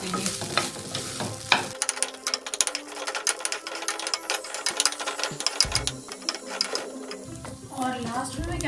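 Egg fried rice with dark soy sauce is stir-fried in a pan, giving a rapid, close clatter of a utensil scraping and tossing. Underneath runs a soft sizzle, with brief pauses between bursts of stirring.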